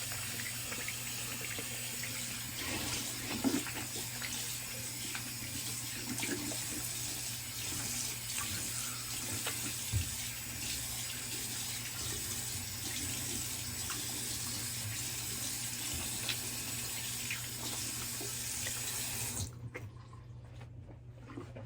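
Cold tap water runs steadily into a sink for a long stretch during a wet-shave rinse, a constant close splashing rush, then shuts off near the end.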